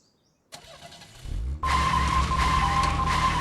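A video game car engine in Deadly Premonition: The Director's Cut cranks and catches, then settles into a steady, loud idle hum with a faint whine.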